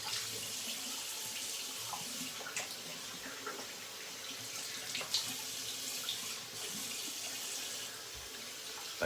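Running water rinsing slick soap off, a continuous soft tap stream with faint splashes and occasional clatters, fairly quiet and without speech.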